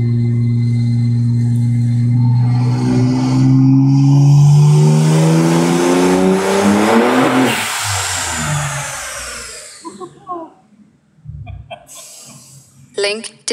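A car engine on boost revs hard, its pitch sweeping steadily upward for several seconds before cutting off, followed by scattered clicks and pops.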